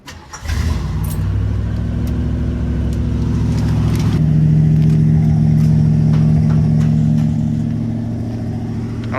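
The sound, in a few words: Ford LTD engine revving through Flowmaster 40 mufflers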